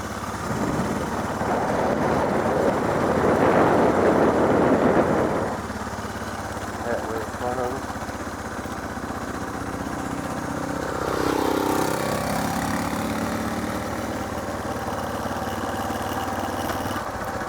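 A dual-sport motorcycle engine runs low and steady, idling close by in high gear on a downhill Colorado mountain road near Silverton, with a brief louder rumble early on and another swell near the end.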